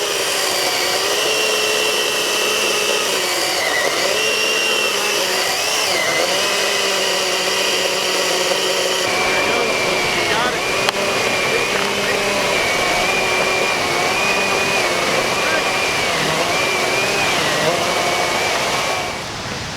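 A continuous electric chainsaw motor whines steadily at high pitch cutting a tree, its tone shifting slightly as it works under load, running without pause throughout.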